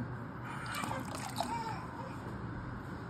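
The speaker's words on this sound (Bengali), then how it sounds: "তো এই যে জল দিয়ে দেওয়া হলো" Water is poured into a pot of rice, dal and vegetables being cooked for a child's dinner, making a faint, quiet trickling and splashing close by.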